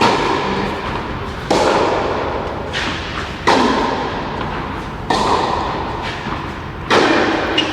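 Tennis forehand strokes in a rally during a club match, four or five firm thudding ball impacts a couple of seconds apart over steady outdoor background noise.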